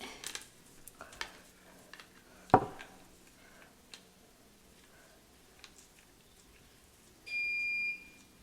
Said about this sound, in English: I apologize for the beep. That is my water heater.